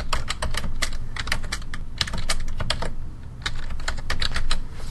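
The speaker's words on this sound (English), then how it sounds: "Now I'm going to go ahead and type some more text." Rapid keystrokes clatter on a computer keyboard in uneven bursts, close and clear, with brief pauses between runs of typing and no voices.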